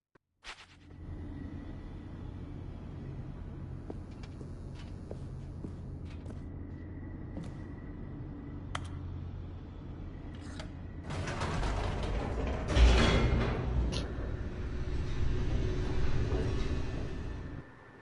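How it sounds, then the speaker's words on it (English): An elevator in The Stanley Parable grinds and creaks mechanically as it descends, with sparse clicks over a low hum that swells into a heavier rumble toward the end. "The elevator raced downward"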